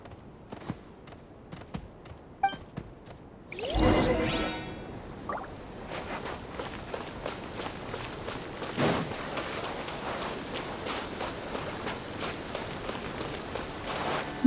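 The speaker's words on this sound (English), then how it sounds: "Marching in the rain conceals the sound of our arrival." Rain falling in the video game Genshin Impact: steady hiss with scattered drops at first, then a sudden loud rumbling crack like thunder, followed by a continuous close downpour patter.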